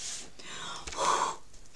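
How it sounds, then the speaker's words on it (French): A person draws a quick, audible breath, a short airy intake near the middle of a quiet moment, close to the microphone. "Je prends ma respiration, hein."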